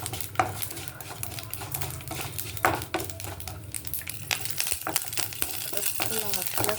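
Chili frying in oil for a tempering in a home kitchen sizzles steadily, with scattered metallic clinks and stirring scrapes of a spoon against the pan, close and moderately quiet.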